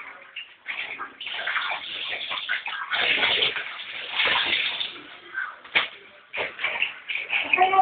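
Clothes are washed by hand in a basin of soapy water, with irregular sloshing, swishing and wringing splashes in bursts up close. Voices speak faintly at times.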